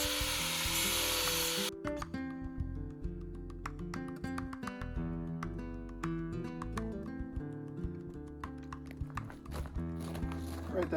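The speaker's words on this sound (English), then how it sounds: "And to do this, I use an angle grinder with a flapper disc." An angle grinder fitted with a flap disc bevels a Zebrawood guitar body: a steady, close motor whine with a continuous rough sanding rasp that starts with a loud burst.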